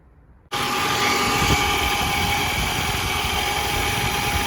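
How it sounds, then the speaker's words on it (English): A 2003 Toyota RAV4 engine starts abruptly from near silence and settles into a steady, close idle with a faint whine, with no talking. "I'm gonna start with the engine and see what happens."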